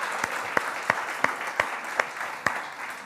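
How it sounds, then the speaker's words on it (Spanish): An audience applauds for Marisa, a woman holding a baby, during a Spanish-language talk. Rhythmic, fairly loud clapping comes in regular pulses, nearly in unison and about three beats per second, over a softer spread of scattered hands. "un aplauso para Marisa"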